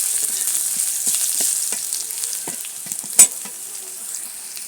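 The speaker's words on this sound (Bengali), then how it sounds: "বাগার দিয়ে দিয়েছি খিচুড়ির। এখন নেড়ে চেড়ে একটু রেখে উঠিয়ে নেব।" Bay leaves, dried chili and garlic sizzling hot as a tempering poured into khichuri, a steady frying hiss with scattered crackles and stirring clatter, then a sharp clink near the end.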